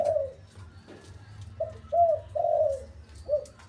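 Big-voiced decoy dove kept in a cage, cooing in a few deep, hollow notes, one short then a cluster of three, close by over low background hum.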